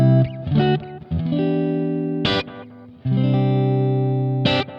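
An electric guitar played through a Positive Grid Spark amp with a short plate reverb sounds a few sustained, distorted chords that ring out between brief, bright strums, loud and close with no talk.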